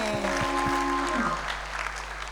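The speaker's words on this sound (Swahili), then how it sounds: "Piga Yesu Kristo makofi" A church congregation applauds in a dense, even patter of many hands, with a faint voice and low tones mixed in at the start.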